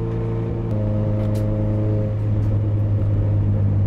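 A Subaru time attack car limps around a racing course at a steady 3,000 RPM, a loud, constant engine drone from inside the cabin that shifts in pitch once partway through.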